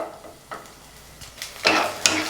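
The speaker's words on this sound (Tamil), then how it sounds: "இது நல்லா ப்ரௌன் கலராக வர்ற வரைக்கும் வதக்கிக்கலாம்." Garlic cloves fry in sesame oil and are stirred in a pan, giving a soft sizzle with a few short scraping strokes, growing louder toward the end.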